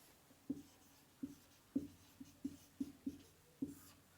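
A pen scratches by hand on paper in short separate strokes, roughly eight quiet, close scrapes spaced unevenly with pauses between.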